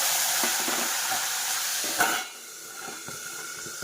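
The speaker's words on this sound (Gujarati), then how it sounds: "તો કેમ કે વટાણા કાચા છે ને એટલે આપણે એને તેલમાં એકદમ ચડાવી લેશું" Raw green peas cooking in hot oil with asafoetida, a bright steady sizzle and hiss up close that drops to a quieter simmer partway, with faint stirring taps and no talk.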